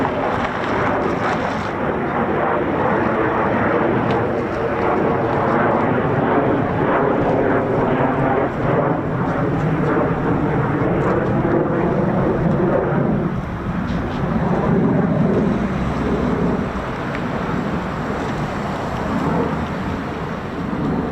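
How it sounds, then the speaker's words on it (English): A single F-15 fighter jet arriving at RAF Lakenheath, a broad, sustained jet roar that stays loud throughout and swells slightly near the end, with wind buffeting the microphone. "Oh, here comes the arriving aircraft."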